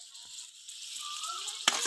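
Pre-fried fresh river chata bele fish goes into a hot pan for a spicy curry, giving a soft, quiet steady sizzle that ends in one sharp clack as the pieces drop in.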